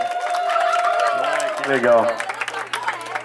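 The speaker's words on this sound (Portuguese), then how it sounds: "Pode bater palmas que merece" A party crowd at a birthday celebration in a park claps along, applause mixed with cheering and voices; one person speaks briefly over the noise.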